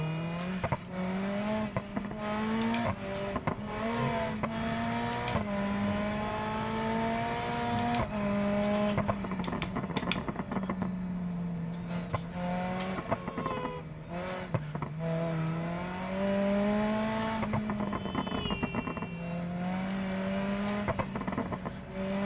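A Sherrier Ardente coupe prototype in BeamNG drives hard, its engine revving and sweeping steadily up and down in pitch, with brief tire noise, loud and continuous throughout.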